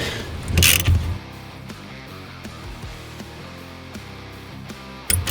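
A nut is undone from the front pinch bolt of a BMW 530d E60 with an 18mm spanner or ratchet: a few soft metallic clicks and creaks over quiet workshop background, with a louder clatter near the start.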